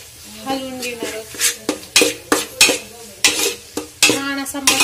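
A spoon scrapes and clatters against a pan in quick, uneven strokes, stirring whole spices for a dhaba-style mix veg Kolhapuri, with a faint sizzle of oil beneath. The clinks are close and loud.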